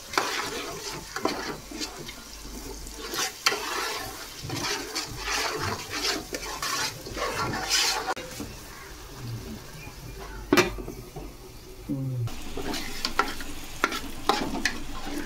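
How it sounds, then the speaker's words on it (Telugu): Ginger paste frying in a pan while being stirred, a close sizzle broken by repeated scraping strokes and clatters of the spoon, with a brief louder clank near the end and no clear talking. "ఇది అల్లం పేస్ట్ అనేది వేగిపోయింది."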